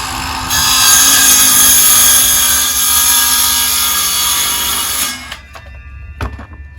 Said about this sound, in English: I'm gonna go right ahead and cut it so I have a nice guiding surface.